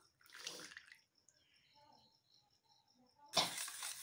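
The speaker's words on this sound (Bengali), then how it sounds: "তো সাদা তেলটা এখন এর মধ্যে দেবো।" Vegetable oil pours into a bowl of eggless sponge cake batter made with sugar and milk, a faint close splashy trickle in two short bursts with quiet between them.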